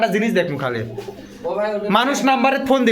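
Pigeons coo at a pigeon shop in Bogura, low murmuring calls sitting beneath a man's loud, close talking throughout.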